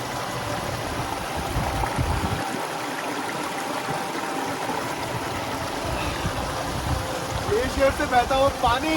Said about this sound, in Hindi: ग्लेशियर से बहता हुआ पानी